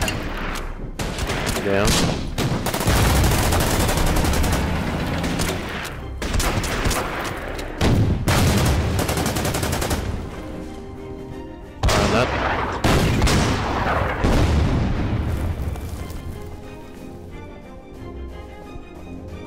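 Gunfire in a World War II Pacific strategy game, dense bursts of shots and booming impacts in repeated volleys separated by short gaps, loud and close, with a brief spoken word.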